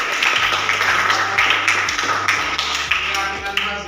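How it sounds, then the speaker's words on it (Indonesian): A classroom gives group applause in a quick rhythmic clapping pattern, loud and near, with a steady beat over a low musical backing. "Tepuk tangan untuk kalian semua."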